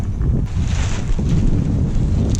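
Steady, loud wind buffets the microphone outdoors while a van awning is pitched, a constant rumbling roar with slight gusts and no pauses.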